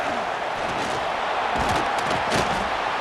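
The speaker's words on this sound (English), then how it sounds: "It's early, but this crowd is fired up. Listen to this noise here." Stadium crowd roar from the EA CFB 26 college football video game, Texas A&M vs Florida, a dense steady wash of cheering and chanting at moderate level with no commentary over it.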